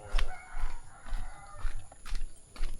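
Chickens on a Filipino farm cluck and call repeatedly, close and fairly loud, with a rooster's crow among the bursts and a steady rural background between them.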